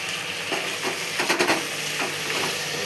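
Gongura leaves stirred in a hot pan, a steady close sizzle with soft scraping strokes of a spoon that bunch together briefly in the middle.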